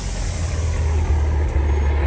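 A Guatemalan chicken bus pulls up in the highlands, its heavy diesel engine a steady, loud low rumble that holds close and continuous throughout, with a faint hiss above.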